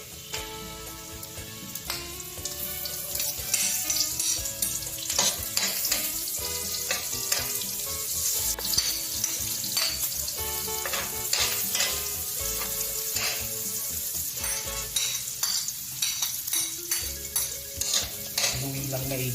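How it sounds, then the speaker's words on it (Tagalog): Onion, garlic and ginger sautéing in a pan for Ilocano pinakbet, a steady loud sizzle broken by frequent scraping and clinking stirs throughout, with no talk. "Pwede na natin igisa ang sibuyas, bawang at luya."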